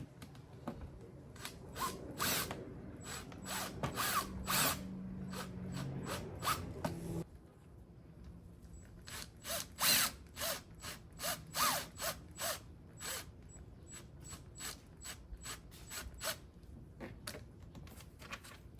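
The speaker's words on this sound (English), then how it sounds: "I'm gonna grab my electric drill." Short bursts of a power drill driving screws while installing a weather station, whirring repeatedly, with sharp clicks and ratcheting between runs, close by and fairly quiet.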